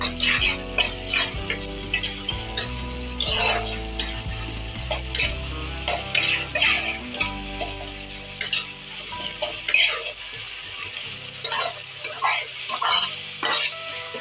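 Masala brinjal frying on a low flame with garlic and tomato paste, stirred steadily in the pan, giving a continuous soft sizzle broken by repeated scraping and stirring strokes, with low tonal background sounds and no voices.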